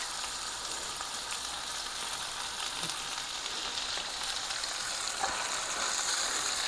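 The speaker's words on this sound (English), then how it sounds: "let's saute that some" Mushrooms and onion sauté in a hot pan, giving off a soft, even sizzle that hisses steadily throughout at low volume.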